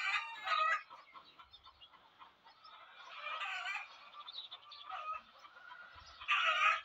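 A flock of layer hens in a floor-housed shed on a poultry farm of about five thousand birds clucks and squawks continuously, with louder bursts at the start and end, and no talking.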